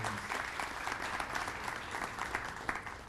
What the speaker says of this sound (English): please let's give a round of applause.